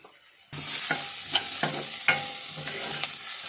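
Herb rice with cream of mushroom is stirred in a pan, a spoon scraping and knocking in a loose repeating rhythm over a soft sizzle, close and steady after a quiet start, with no voices.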